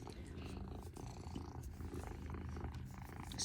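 Cat purring close by beside someone crocheting, a soft rumbling purr running under nearby talking and faint handling noises.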